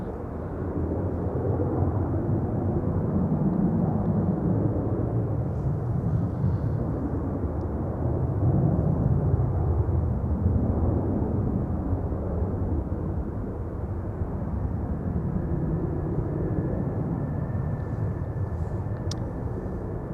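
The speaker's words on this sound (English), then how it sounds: "A220 from Air Baltic is also making its way over. Now taxiing on the west side of the central runway." An Air Baltic A220 airliner taxis at Amsterdam Schiphol Airport, a steady, heavy low rumble that swells and eases, with a faint high engine whine appearing toward the end.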